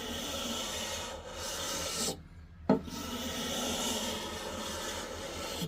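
A hand scraper rasps across the surface of a walnut table, giving a steady close scratching with a short pause and a sharp catch midway, with no talking.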